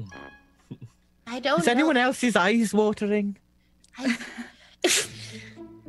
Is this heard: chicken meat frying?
no